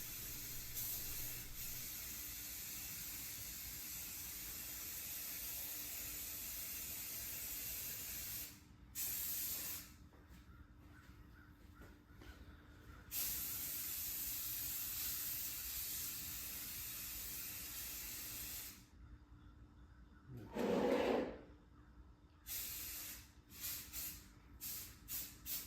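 A spray can hisses paint in several long bursts separated by brief pauses, the steady rushing spray starting and stopping.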